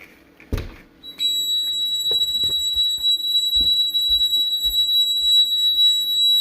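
A Honeywell security alarm under test sounds a steady, piercing high-pitched tone that starts about a second in and holds without a break, with a few soft knocks and thumps beneath it.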